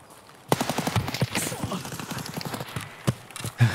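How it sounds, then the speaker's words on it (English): Sharp bursts of gunfire from Escape from Tarkov, sounding from behind or through a wall inside a building, several quick cracks spread irregularly across the clip amid other game noise. "Is he shooting me through the wall?"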